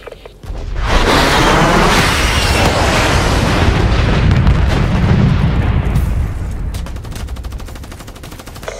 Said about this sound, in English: Friendly lightning strike inbound.